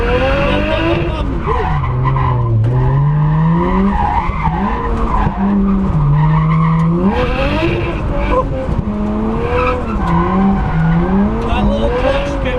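A 440BHP R33 Nissan Skyline drifts hard, its tires skidding and squealing continuously while the turbocharged engine wails and rises and falls in pitch with clutch kicks, loud and close throughout.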